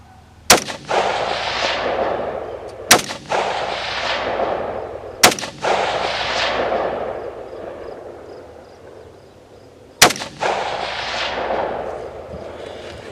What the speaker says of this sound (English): that's a far shot with this scope